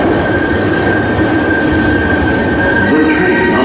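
Steady, loud rumble of a Hankyu 7300 series electric train arriving at Ebisucho Station, with a sustained high whine and faint wheel squeal throughout, no voices.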